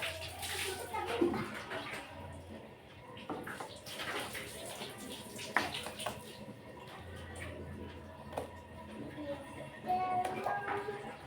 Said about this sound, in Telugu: శుభ్రంగా అన్నీ కడిగి పెడుతున్నా